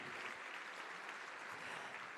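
Faint, steady applause from an audience at the Black & White Ball and Business Awards, a continuous wash of distant clapping throughout a brief stretch.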